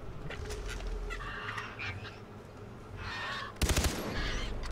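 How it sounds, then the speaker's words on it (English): Far Cry 3 gameplay with a cassowary honking in several rough, goose-like calls, then a sudden loud burst of gunfire near the end over steady game ambience. "Yeah, it was a cassowary."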